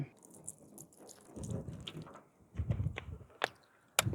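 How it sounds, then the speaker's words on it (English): Water is poured onto dirty ceramic-coated car paint, giving faint, quiet splashing and trickling with a few sharper splats and drips, close and intermittent with no speech. "let's pour some water on it, see what we got"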